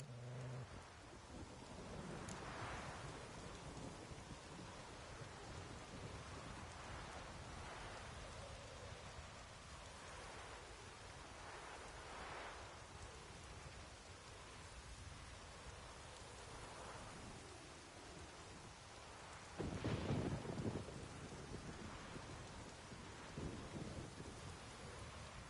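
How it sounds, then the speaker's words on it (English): A thunderstorm in The Witcher 3 video game, with heavy rain hissing steadily throughout, low rumbles of thunder rolling in the background and a louder crack of thunder partway through. "I've not managed a storm that fine for ages. Did you see the drops? The size of eggs."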